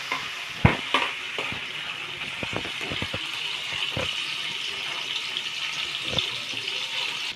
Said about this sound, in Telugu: సో ఇందులో ఇప్పుడు మనం పన్నీర్ వేసుకోవాలి. సో మిక్స్ చేసుకోవాలి ఒకసారి.